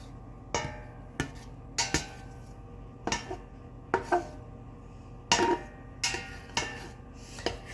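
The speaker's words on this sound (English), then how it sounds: "So I'm going to stir that around." Butter warming in a pan as it is stirred, with sharp scrapes and knocks of a utensil against the pan coming in an uneven rhythm, close by with no talking.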